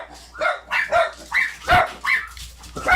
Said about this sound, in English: Sounds like I'm in a dog kennel.